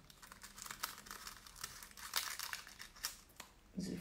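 Small scissors snipping and crinkling a thin sheet of nail art foil up close, a quick run of crisp, papery crackles and rustles, quiet and with no talking.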